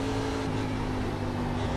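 Race car engine drone at steady high revs, accelerating in iRacing's Xfinity Series at Circuit of the Americas, a continuous loud buzzing hum with a strong harmonic tone throughout, no talking.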